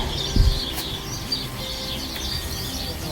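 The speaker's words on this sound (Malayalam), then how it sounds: "അപ്പോൾ കുറേ കിളികളുടെ സൗണ്ടൊക്കെ കേൾക്കാം." Several birds call from a tree after rain, light chirps and a brief flutter of wings over a steady outdoor hiss, moderately distant and without talk.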